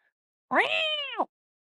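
A single clear cat meow as a sound effect, rising then falling, close and isolated, lasting under a second with silence around it.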